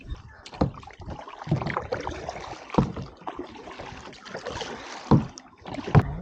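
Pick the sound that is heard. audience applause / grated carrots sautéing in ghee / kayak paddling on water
kayak paddling on water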